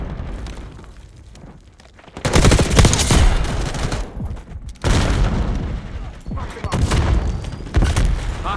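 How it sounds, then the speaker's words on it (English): A flashbang grenade goes off in Call of Duty Black Ops 6 multiplayer as a sudden loud blast. It comes amid repeated booming bursts and gunfire, with game voice callouts heard alongside. "Flashbang incoming. Grenade coming in!"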